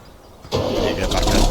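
A high-end tractor engine in Farming Simulator 17 turns over and catches abruptly, then settles into a steady, loud idle rumble with no talk.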